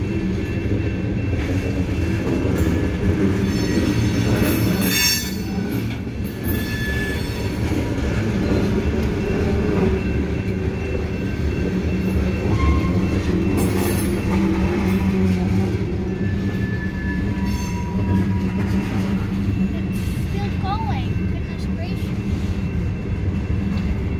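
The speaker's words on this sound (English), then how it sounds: "That's a long train, huh?" A long train rumbles steadily past nearby in Newport, Vermont, wheels clattering and grinding continuously for the whole stretch, loud and unbroken.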